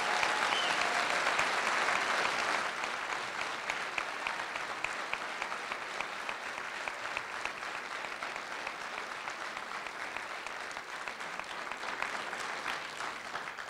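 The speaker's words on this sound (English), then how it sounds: "I would like a last round of applause for our candidates" An audience at a county supervisors candidate forum applauds the candidates, a sustained dense round of clapping that starts strong and settles into a steady, slightly softer patter to the end.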